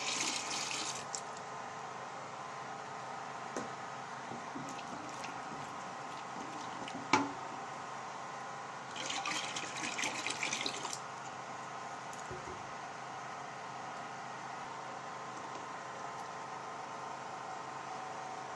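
Homemade laundry bar soap mixture with sodium silicate is poured and stirred, giving a steady, even wash of liquid noise for the whole stretch, with a sharp knock and a brief louder splash partway through.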